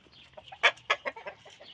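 Chickens and roosters cluck in a coop, several sharp, close squawks and clucks in a quick uneven series over a low background murmur.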